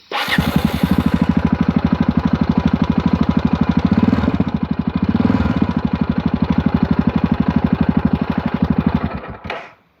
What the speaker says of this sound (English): It's got the aftermarket exhaust, which is quite loud.